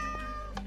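A cat meows in the Minecraft video game, a couple of short faint mewing calls over a steady background hum, with no talking.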